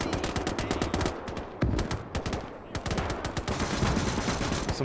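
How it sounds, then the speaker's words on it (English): Heavy machine guns fire in the video game Gates of Hell during a Mannerheim Line battle at Lähde, loud rapid bursts of automatic gunfire that overlap almost without pause. "Some heavy machine guns working here as well."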